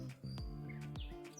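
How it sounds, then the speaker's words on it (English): Birds chirping beside a lake at Yellow Creek State Park, a few faint, brief tweets scattered over low, quiet outdoor background. "got the water lapping, the birds chirping"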